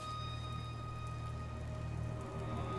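Steady rain from the God of War game pours down in a continuous, even hiss, with a low droning hum beneath it and no voices.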